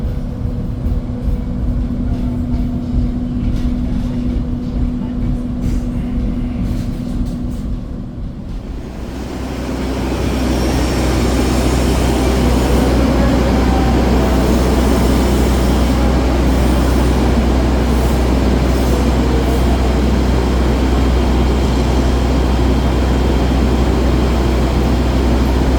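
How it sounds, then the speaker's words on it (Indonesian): The Argo Anjasmoro passenger train pulls into Bekasi station. A quieter interior hum gives way to a loud, steady low rumble of rolling wheels and carriages that continues to the end. "Kereta api Argo Anjas Moro tiba di stasiun Bekasi"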